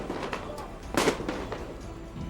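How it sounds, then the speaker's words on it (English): A series of fireworks bursts pop and crackle at a distance, one louder blast in the middle, with crowd noise underneath. "Wow, that's a lot of fireworks."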